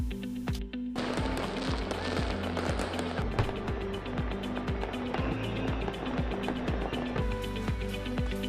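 New Year firecrackers going off in Mauritius, dense rapid crackling bursts and pops layered over one another, continuous and fairly loud with distant and near reports mixed.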